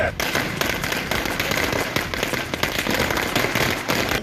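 Firecrackers bursting in a dense, continuous string of sharp cracks at a street celebration by AIADMK party supporters, loud and close, with faint voices underneath.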